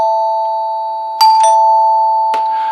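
A NuTone K40 side door chime sounds its two notes, a sustained ringing tone struck again with a second bright note, then a third strike, each leaving a long clean decay, close and loud without voices.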